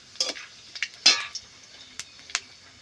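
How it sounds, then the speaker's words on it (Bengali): Dry red chilli, a bay leaf and panch phoron spices stirred in hot oil, giving a faint sizzle broken by a handful of distinct spatula clinks and scrapes against the pan. "মশলাটা একটু নেড়ে চেড়ে নেব"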